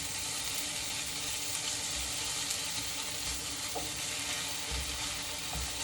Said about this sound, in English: Just kind of toss it around. And let it cook down. Keep tossing my zucchini.